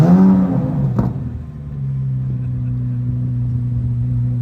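A 2023 Corvette Z06 engine settles into a low, steady idle after a brief higher note at the start, rumbling evenly and fairly close.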